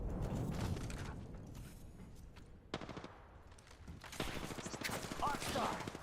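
Rapid bursts of automatic gunfire in a ranked duos shooter video game, dense repeated shots at moderate volume with overlapping game effects and a short electronic tone near the end.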